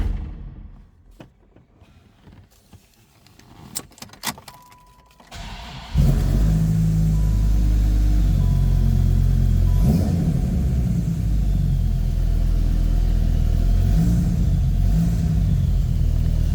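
A few clicks and faint noises, then the supercharged V10 of a 2001 Dodge Viper GTS coupe roars to life and settles into a loud, deep idle with occasional revs.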